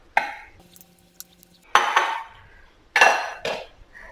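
Soaked broken wheat is scraped and tipped into a mixer grinder jar, with several loud close clatters and scrapes of a utensil against the jar, separated by short pauses.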